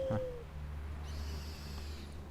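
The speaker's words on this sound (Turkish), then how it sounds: "baykuş çağıracağım lan." An owl hoot sounds in the Far Cry Primal video game, clear and near at the start, with a softer, sustained tonal call following. No voices are heard, only a steady background hum.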